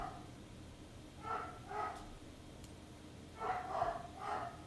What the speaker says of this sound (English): Who the heck is barking?